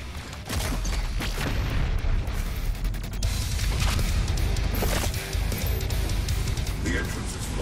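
BFG 10000 superweapon firing in DOOM Eternal: a dense, sustained rumbling roar with booming bursts that holds steady for several seconds without fading.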